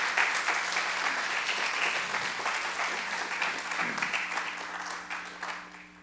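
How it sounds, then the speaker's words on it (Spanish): A church congregation gives sustained applause, a dense clapping wash with a faint steady hum beneath, tapering off toward the end. "Denle un aplauso al Señor fuertemente."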